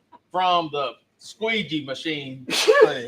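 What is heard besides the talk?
sneeze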